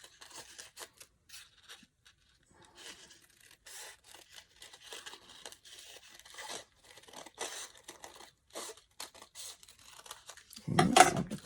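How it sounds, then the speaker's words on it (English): Scissors snipping diagonally through folded paper for a paper flower, a series of short crisp cuts and rustles, close and quiet, ending with a louder crinkle. "I'm just going to cut this on the diagonal"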